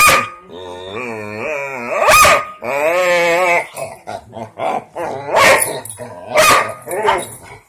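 Several puppies bark, yip and growl loudly in close bursts, mixed with excited high-pitched human talk.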